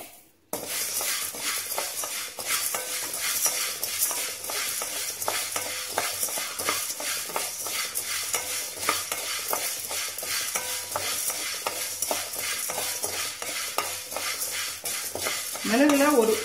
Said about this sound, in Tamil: அரிசி கொஞ்சம் பொரியட்டும்.